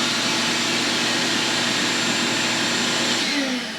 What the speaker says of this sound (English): We just done the shop-vac vacuum pull, changing this filter.